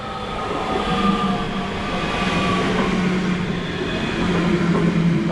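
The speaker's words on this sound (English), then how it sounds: "That's our train now. A double 4-car for Route 5." A passenger train, a double four-car unit, arriving at Croy station: a steady rumble of wheels and motors, close and loud, with faint rail clatter and squeal throughout, and no talk.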